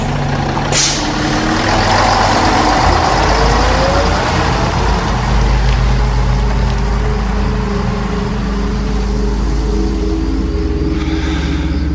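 A bus pulls away from a dark, quiet stop just before dawn, with a brief air-brake hiss near the start and then a steady, loud engine rumble that holds throughout.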